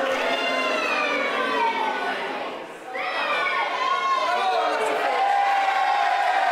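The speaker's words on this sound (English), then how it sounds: "And the crowd loving it." Crowd at a wrestling show in a community centre hall, a continuous roar of cheering and shouting voices, high children's cries among them, briefly dipping then swelling again.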